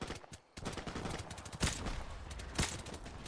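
Gunfire rings out in the Blackout mission of Call of Duty 4: Modern Warfare Remastered, played on Veteran difficulty: a rapid string of close, sharp shots with two heavier blasts standing out amid the rattling volley.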